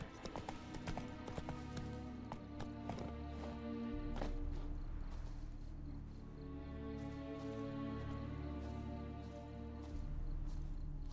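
Roach the horse gallops along a road in The Witcher 3, with steady rhythmic clip-clop hoofbeats, close and loud, continuing throughout over a layered game soundtrack.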